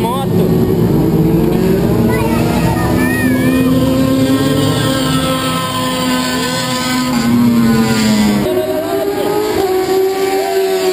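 Motorcycles, including a Kawasaki ER6n 650cc, lapping at a track day in Curitiba: engines whine and rise in pitch as bikes pass, a continuous motor drone with people talking over it.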